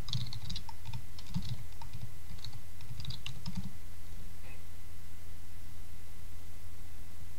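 Fingers type an npm install command on a computer keyboard, a run of quick, close clicking keystrokes for about four seconds before the room falls quiet with a steady hum.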